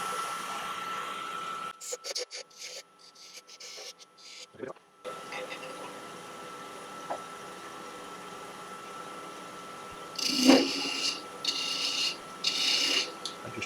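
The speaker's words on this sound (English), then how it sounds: "I'm just going to use a little 10mm spindle gouge." A small 10mm spindle gouge scrapes and peels wood on a lathe while it spins, in uneven stretches of rasping cut. Brief quiet gaps break it up, and a few louder bursts come near the end.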